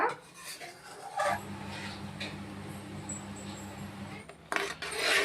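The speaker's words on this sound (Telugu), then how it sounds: "అడుగు పట్టనివ్వకుండా మంచిగా ఇలాగా స్లోగా కలుపుకుంటూ ప్రాసెస్ అయ్యే వరకు ఇలా కలుపుతూనే ఉండాలన్నమాట" Milk is stirred in a pan while it cooks down into khoa. Soft scraping strokes rub against the pan's bottom over a steady low hum, with a few louder scrapes near the end.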